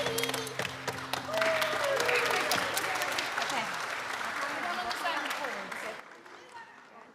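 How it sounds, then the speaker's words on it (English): A church congregation claps along to a worship song, loud rhythmic handclaps at first that blur into sustained applause over singing voices, then fade out. "When I clap my hands, clap, clap for Jesus"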